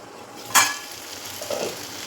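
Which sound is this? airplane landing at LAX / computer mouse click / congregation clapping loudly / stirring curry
stirring curry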